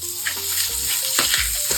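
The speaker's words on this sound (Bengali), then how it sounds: "মাছগুলো ভাজা হয়ে গেছে" Fish fries in hot oil with a steady close hiss, overlaid by a few quick scraping and tapping sounds of a utensil moving in the pan.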